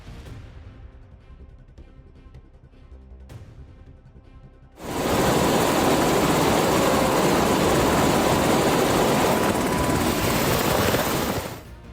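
Helicopter in flight at altitude, heard first as a muffled cabin hum with a few thumps, then abruptly a loud roaring rush of rotor wash and wind that stays constant and close until the end.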